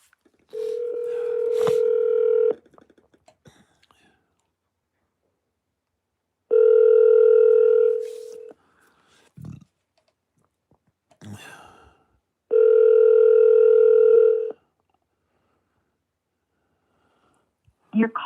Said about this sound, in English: Alexa, call Double K.